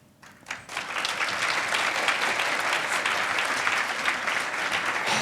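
Sustained audience applause fills the room after a product marketing talk, a dense steady clapping that swells quickly at the start and holds at an even level throughout.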